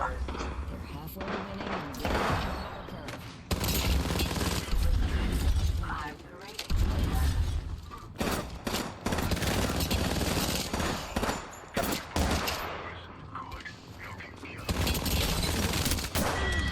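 Video game gunfire in Apex Legends, with dense bursts of automatic shots and heavy impacts crackling loudly in waves, mostly under excited player talk, pausing briefly between volleys.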